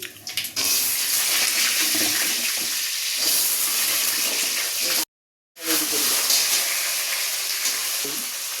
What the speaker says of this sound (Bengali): আলুটা ভাজা হয়ে যাক